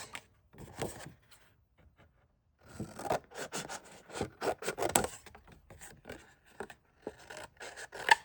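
Scissors cutting paper for a flip wallet album, a series of crisp snips and rustles in uneven bursts with a quiet pause early on, close and moderately soft.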